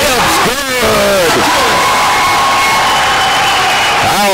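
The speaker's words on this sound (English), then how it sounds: "This crowd is into the game." Crowd at a men's college basketball game in Anderson Arena, loud sustained cheering and whooping filling the gym, with shrill whistle-like shouts near the start and end, while an announcer talks over it.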